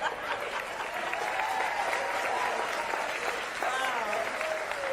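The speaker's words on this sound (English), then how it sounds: "Can you believe that's an applause line?" Crowd applause at a political campaign rally with two politicians, a steady dense wash of clapping held for the full five seconds, with some voices and light cheering mixed in.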